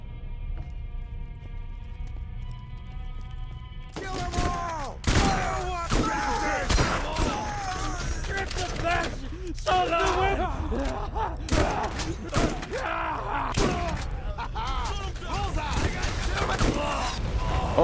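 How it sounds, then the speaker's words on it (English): Rockets launch and explode in a Borderlands firefight, with heavy repeated booms, thuds and gunfire stacking up after a quiet musical opening. Someone talks excitedly throughout. "Oh my, someone's shooting rockets."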